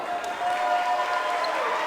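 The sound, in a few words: audience applauding dancers on stage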